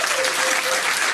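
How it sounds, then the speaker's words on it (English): Crowd at a pub trivia quiz night giving a round of applause, steady and fairly loud dense clapping filling the whole short moment. "Okay, give them a round of applause."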